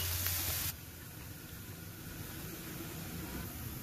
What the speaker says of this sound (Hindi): प्याज को अच्छे से फ्राई करके ले लेंगे